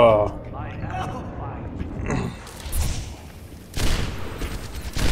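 Gunfire bursts from the hero shooter Overwatch in a hybrid map match, loud crackling volleys with thumps and booms breaking out around two and four seconds, mixed with game noise and a player talking.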